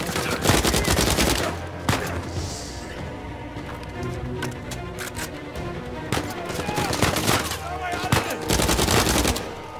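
Rapid bursts of automatic gunfire from Uncharted 4: A Thief's End, loud and close, crackling through most of the stretch with short lulls between volleys, mixed with game ambience.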